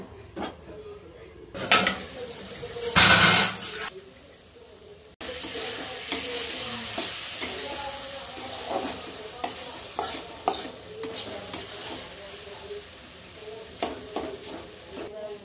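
Tomato chutney cooking in a pan, with a continuous sizzle broken by loud metal clanks and scraping of a spoon and lid, and voices talking faintly in the background.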